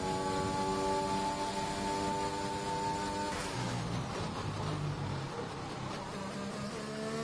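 Steady high-revving racing car engine from the F1 2021 video game at the Bahrain Grand Prix, a continuous loud whine that shifts pitch midway as the car changes speed, with no voices.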